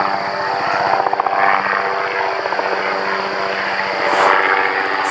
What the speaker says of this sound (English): Oh goodness, we've got a helicopter visiting us.